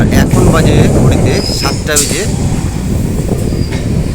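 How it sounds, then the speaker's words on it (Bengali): Local train pulling into platform 2 at Santipur Junction, rumbling wheels and rolling clatter with brief squeals and clanks, someone talking over it close by. "আর আমাদের ট্রেন ঢুকছে, আর এই ট্রেনটি এখন শান্তিপুর জংশনের 2 নম্বর প্ল্যাটফর্মে ঢুকছে।"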